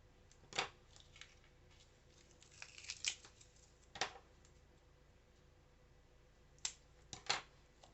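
Scissors snip through old stickers, giving a few faint, sharp, close cuts spaced apart with quiet pauses between them.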